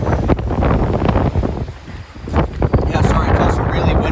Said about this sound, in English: it's also really windy today here in Florida